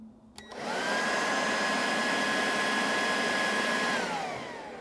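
A SnapFresh leaf blower roars up after a brief quiet start and holds a steady, loud, high-pitched whine with a whooshing airflow, winding down slightly at the end of a speed test.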